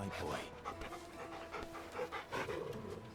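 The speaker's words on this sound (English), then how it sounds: "No, I'm gonna pet my dog." A dog panting in the video game Final Fantasy XVI, quick rhythmic breathy huffs repeating close by, with game voices or sounds partly over it.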